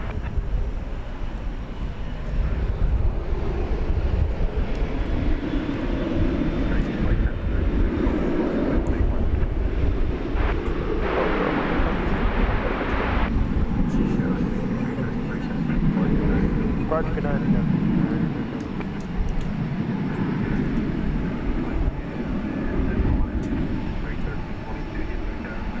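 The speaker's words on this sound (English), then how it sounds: "And taking off into the night sky there, American Eagle 6333, a CRJ 701ER, headed to Roswell, New Mexico" An American Eagle CRJ-700 (CRJ-701ER) regional jet takes off at night from DFW runway 18 Left. A steady, distant broadband jet roar persists throughout, mixed with wind rumble on the microphone.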